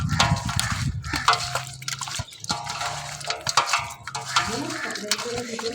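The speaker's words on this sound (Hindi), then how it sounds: "और अब हम इसको अच्छे से मिक्स करेंगे।" Spices being mixed by hand into a chicken tikka marinade in a bowl, with close wet squelching and sticky dripping sounds in an irregular rhythm, with some faint background noise.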